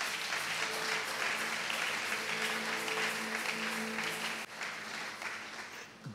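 A church congregation applauding the Lord, dense sustained clapping that fills a large room for several seconds before thinning and fading, with faint voices and cheers mixed in.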